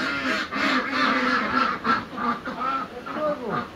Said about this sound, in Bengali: মূলত এটা হচ্ছে চায়নার জাত, মাচাই করে হাঁস চাষ পালন